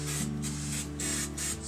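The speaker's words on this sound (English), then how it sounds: "you're going to spray your pan very liberally" Cooking spray hissing into a 9x13 baking pan in a kitchen, a steady close aerosol spray lasting under two seconds with slight pulses as the can moves.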